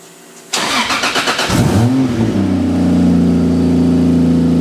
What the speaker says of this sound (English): let's start this car for the first time